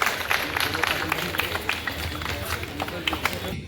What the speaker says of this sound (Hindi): इसलिए हम जोरदार तालियों से स्वागत करेंगे।